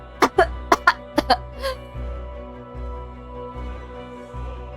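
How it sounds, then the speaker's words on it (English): A ragged, wheezing cough from a character in the romance visual novel TouchStarved: several sharp, close hacking bursts in quick succession, then a fading rasp over a low, steady background drone. "My lungs burn with a ragged cough."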